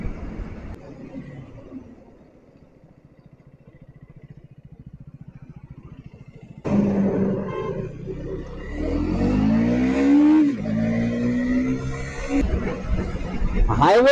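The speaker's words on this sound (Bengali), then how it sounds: "হাইওয়েতে বাইক চালিয়ে মজা একটা আলাদা রকম" A KTM Duke 250 motorcycle rides on a highway: a muffled start, then a loud, close engine rising in pitch as it accelerates through the gears, with wind noise throughout.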